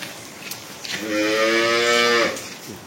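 Dairy cow mooing near its calf, one close, loud, drawn-out moo lasting about a second and a half, with quiet farm ambience on either side.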